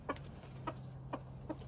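Chickens in a garden after a green bean harvest, clucking softly in four short, evenly spaced calls over a low steady hum, close but quiet.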